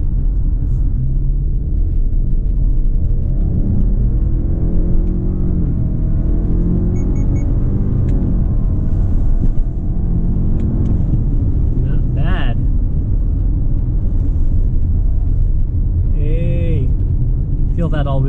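A 2020 Subaru Outback XT with all-wheel drive accelerates hard, its engine a loud steady rumble with rising pitch sweeps throughout, while a voice talks over it.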